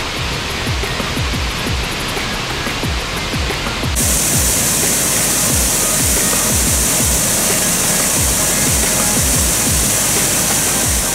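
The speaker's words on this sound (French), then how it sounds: "je vous conseille de faire un petit détour par la cascade della Marina" Steady roar of the Cascata della Marina waterfall near Cagliari, loud and continuous throughout, with rushing water spray; no voices.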